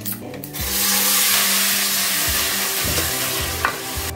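Ground tomato and green chili paste hits hot oil with curry leaves for betel leaf rasam, giving a loud, steady sizzle and frying hiss with stirring scrapes, no voices.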